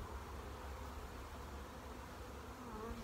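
Honeybees buzz in a steady, continuous drone during a hive inspection while the brood frames are checked. The swarm sound stays even and fairly soft throughout, with no talking.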